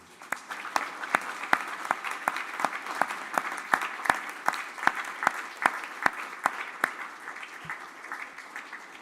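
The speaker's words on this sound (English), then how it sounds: "Let's stand, turn to your left, and applaud those who have supported you." A diploma ceremony audience in a large hall stands and applauds its supporters, a steady wash of clapping with sharp individual claps standing out, sustained and fairly close throughout.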